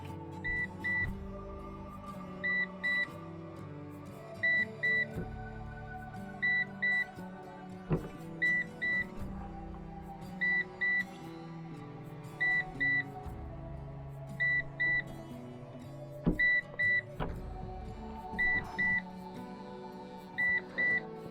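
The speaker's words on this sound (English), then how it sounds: "the disconnected battery alarm is beeping" A PowerShield PSCRT2000 UPS with its battery disconnected sounds a bright double-beep alarm, repeating about every two seconds in a steady pattern over a low electrical hum.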